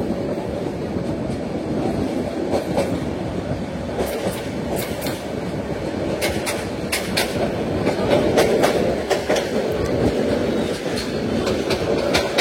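Mahanagar Godhuli Express running on the Brahmanbaria–Dhaka line past Tongi junction at night toward the Tongi rail bridge, a steady close rumble with repeated wheel clicks over rail joints throughout, no voices.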